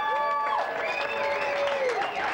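Live audience applauding and cheering at a local radio show stage production, a steady wash of clapping under someone speaking with a strained, pitch-sliding voice over it.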